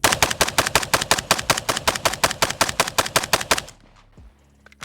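A Stenzel SAK-21 AK rifle fires steel-case ammunition in a rapid, evenly spaced burst of about twenty loud close shots, then stops, leaving faint echoes and a few metallic clinks.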